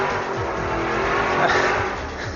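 Roaring engines of race cars blur together in a continuous loud rush, with a faint squeal rising midway.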